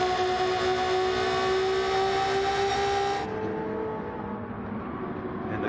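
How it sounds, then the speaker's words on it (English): A Gr-4 racing car engine in Gran Turismo whines loudly and steadily at high revs, buzzing like angry hornets, then cuts to a duller, muffled drone partway through. "Car with the engine that sounds like a jar of angry hornets"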